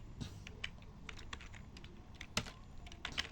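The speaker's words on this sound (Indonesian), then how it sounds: "Di sini kita ketik create" Quiet, steady tapping of keys on a computer keyboard while an SQL create-database command is typed, irregular clicks with a few louder strikes, no voices.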